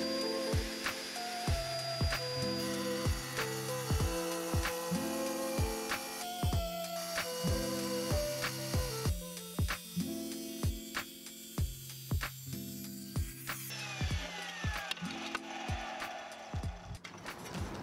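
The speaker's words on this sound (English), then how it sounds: "Time to rip a 24-inch hard porcelain tile." A Delta Cruzer 7-inch tile saw rips a 24-inch hard porcelain tile, with a steady grinding whine from the blade through the stone. The cut runs for the whole stretch, marked by repeated clicks and shifts in pitch.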